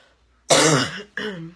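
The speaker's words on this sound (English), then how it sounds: "Still getting over this cough." Two harsh, loud coughs close to the microphone, a longer one followed by a shorter one after a brief pause, with no talking.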